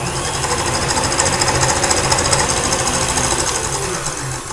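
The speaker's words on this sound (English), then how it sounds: "We're going to keep on whipping this on high speed until we get to stiff peaks." An electric mixer runs on high speed, whipping meringue toward stiff peaks for strawberry rhubarb macarons, giving a steady, loud, dense whirring buzz with a slight rattling pulse throughout, no voices.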